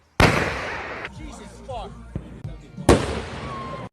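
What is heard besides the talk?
thrown firework exploding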